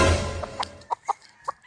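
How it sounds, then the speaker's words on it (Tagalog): A few short clucks from a fighting rooster, four or five brief calls spaced irregularly after a louder opening noise, fairly close. "Ay, gandang manok."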